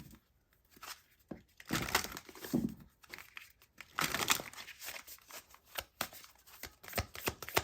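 Moonology oracle cards being shuffled by hand: quiet, irregular bursts of crisp card riffles and slides that come and go in short flurries, with no voices.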